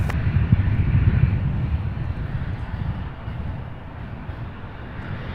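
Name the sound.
UPS heavy freighter aircraft taking off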